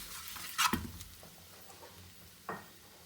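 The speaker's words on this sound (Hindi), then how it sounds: "Mix it well." Onion powder, oregano and salt being stirred into a pan for creamy lemon chicken pasta: a few brief scraping, clicking strokes with a faint sizzle, close by, no talking.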